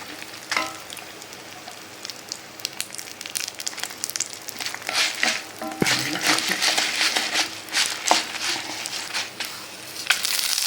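Asafoetida and other spices sizzle and crackle in hot oil for tempering a coconut chutney, a steady hiss with small pops and a clink or two of a utensil.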